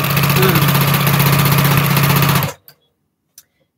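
A sewing machine runs a continuous, steady whirring stitch along quilt strip sets for a postage stamp quilt, then stops abruptly, followed by a couple of faint clicks in near silence.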